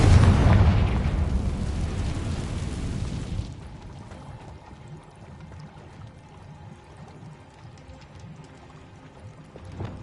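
A fiery Confringo spell blast from a video game opens with a loud, roaring burst. It rumbles for about three seconds, then fades to a quiet crackling tail.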